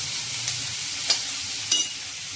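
Chutney ingredients being sautéed in a pan for an idli and dosa chutney, a steady soft sizzle with two or three brief scraping stirs standing out, close and alone with no talk.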